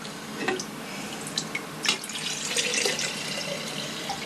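Water poured from a jug into jars for homemade yogurt, a steady splashing trickle with brief louder gushes, close by and with no talk over it.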